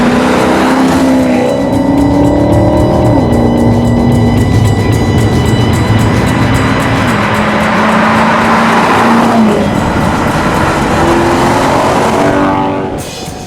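Maserati Quattroporte Sport GTS engine in sport mode roars loudly and continuously, its pitch climbing and stepping down through gear changes as it pulls hard, fading slightly at the very end.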